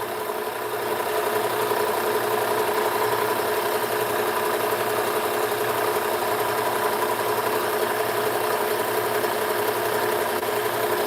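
A belt grinder fitted with a 407 belt runs for knife sharpening, giving off a loud, steady motor hum and a whirring drone that starts within the first second and holds even and unbroken to the end.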